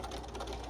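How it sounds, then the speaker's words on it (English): A Bernina sewing machine fitted with a 37 foot stitches a quarter-inch seam on a trick-or-treat bag, a brief, steady, fairly quiet mechanical hum heard up close. "I'm sewing on my Bernina here"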